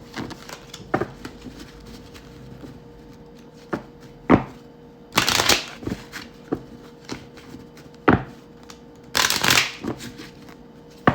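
Tarot cards are shuffled in short bursts, crisp riffling flurries separated by brief taps and pauses, close and fairly quiet.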